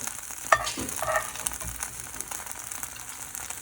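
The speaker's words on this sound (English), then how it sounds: "So anyway, put my onion on there." Onion frying in a skillet alongside a Beyond Meat burger patty with melting cheese, a faint steady sizzle with a couple of brief clinks near the start, fairly quiet and without talk.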